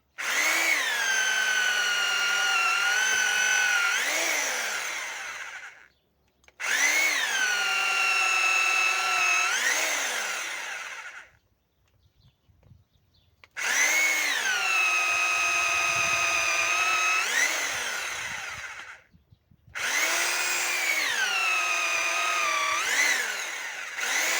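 A power drill whines loudly in four long bursts, its pitch rising and falling as the bit bites, with brief pauses between each run.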